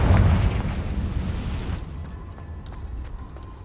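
Confringo blasting spell explosion in the Hogwarts Legacy game, a loud booming burst that rolls off and fades into a quieter tail.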